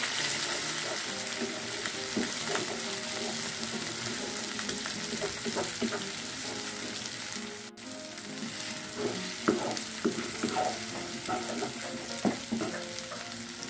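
Eggs fry in a pan together with pak choy and bean sprouts, a steady sizzle with crackling bursts and scraping stirs that grow busier toward the end.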